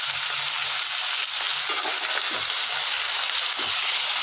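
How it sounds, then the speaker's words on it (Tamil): Boneless mutton pieces fry steadily in hot oil, a dense, even sizzle that stays loud throughout, with a few soft stirring scrapes now and then and no voices. "மட்டன் நல்லா எண்ணெயில் வதங்கிட்டோம்"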